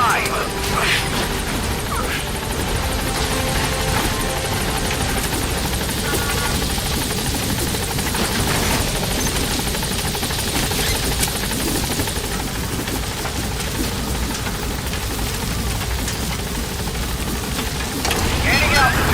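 A B-Quad support helicopter from Metal Gear Solid V arrives at the landing zone, its rotor drone loud, dense and steady for the whole stretch, with voices talking over it.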